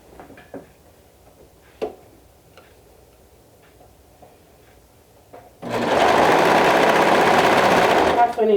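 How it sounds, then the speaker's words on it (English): Serger sewing a shoulder seam, starting after a few faint ticks and handling noises and then running as a loud, steady, fast mechanical whir for about three seconds before stopping. "my serger is removing a 1/4 inch"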